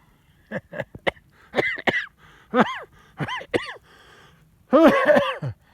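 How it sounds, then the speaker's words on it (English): A person outdoors in the cold coughs harshly in short bursts, some single and some in quick clusters, ending with a louder, longer coughing fit. "I'm coughing from the cold."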